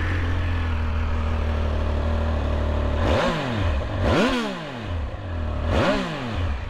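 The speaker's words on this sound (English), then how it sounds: "Let me also show you how this bike sounds" A Triumph Speed Triple 1200RS motorcycle engine idles with a loud, close, steady rumble, then gives three sharp throttle blips that rise and fall in pitch. No one speaks over it.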